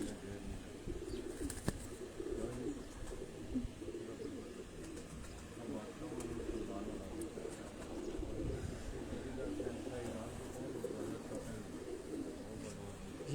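Pigeons coo softly and continuously, several birds murmuring in a low, rolling chorus, with people talking faintly in the background.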